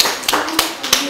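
Children clap in a short, brisk run of a few sharp, close handclaps over about a second.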